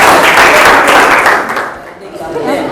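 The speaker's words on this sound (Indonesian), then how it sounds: "Kasih tepuk tangan dulu untuk kelompok 1." A classroom of students claps loudly for the first work group, a dense burst of hand clapping that fades after about a second and a half into murmuring and chatter.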